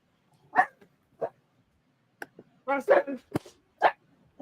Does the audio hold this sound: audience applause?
no